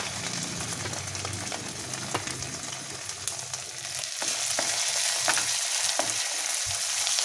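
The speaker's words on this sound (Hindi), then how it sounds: "इसे थोड़ी देर सेक लेना है।" Grated ginger and finely chopped green chilies sizzle as they roast in a pan, a continuous crackling fry with occasional stirring clicks, growing a little louder and brighter toward the end.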